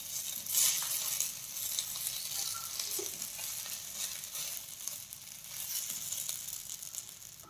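Cutlets sizzle steadily in a hot pan after being turned, a continuous close crackling fry with faint stirring movement and no voices.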